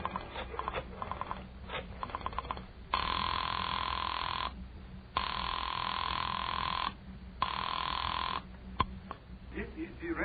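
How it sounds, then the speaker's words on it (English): Telephone rings down a line after a number is dialed, a radio drama effect: three long steady ring tones separated by pauses, with brief clicks and dialing noise before them and a low hum underneath. "I dug through the telephone book and I found Dr. Matson B. Forsyth's number and I dialed it"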